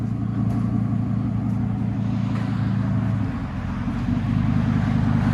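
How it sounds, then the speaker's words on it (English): A 2010 Ford F-250 with a 6.8L V10 and straight-pipe dual exhaust idles close by, a loud, steady low rumble with a slight dip midway before it settles back in. "I love that idle, that V10."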